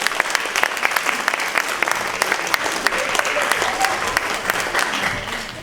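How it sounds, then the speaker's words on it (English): An audience of children and parents gives a big round of applause at a Year 4 school poetry competition, crisp rapid clapping filling the room steadily from start to finish. "massive clap, everybody"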